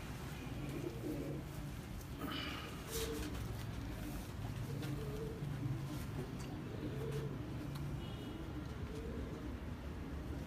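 Pigeons of a single breed coo softly in a loft, with low, muffled repeated calls rolling on under a faint background hiss and a few higher chirps.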